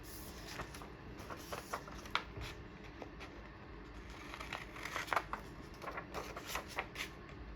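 Large scissors cut through paper for homemade envelopes, giving soft irregular snips and crinkles spread over several seconds, quiet and close with faint background hiss.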